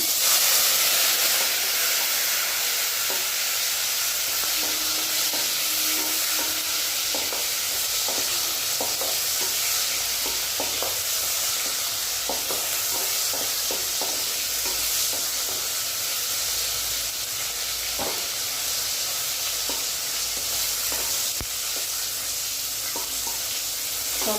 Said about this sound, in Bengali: তেজপাতা শুকনো লঙ্কা গোটা জিরে খুব ভালো মতো ভাজা হয়ে গেছে কেটে ধুয়ে রাখা টমেটো দিলাম